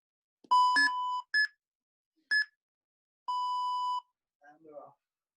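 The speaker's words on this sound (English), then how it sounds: "So you'll hear three beeps when we start and 3 beeps at the end of the 30 seconds" An exercise timer sounds sharp electronic beeps at the start of a 30-second interval: quick bursts, then a longer steady tone, with a bit of faint talk at the end.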